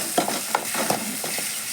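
Crab curry with ground spice paste stirred in a pan, a short run of soft scraping strokes in an uneven rhythm over a faint sizzle, close and alone.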